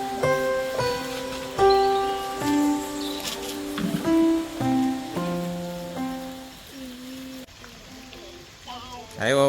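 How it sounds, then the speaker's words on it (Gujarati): Rain patters steadily in the background while voices talk and call out over it. "જો વરસાદ ચાલુ થયો છે"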